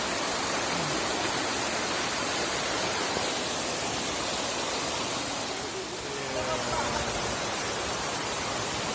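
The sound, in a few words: waterfall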